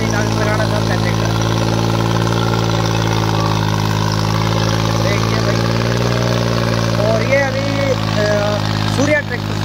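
A New Holland 3630 Super 50 hp tractor engine labors under load at a field demo, a loud, steady droning rumble throughout while someone talks over it.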